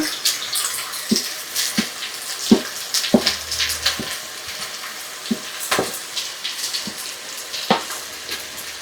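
Onions go into a cooking pot for a nutritious vegetable stew and sizzle with a soft, steady crackle. Sharp clicks and taps from stirring break in irregularly, and no one speaks.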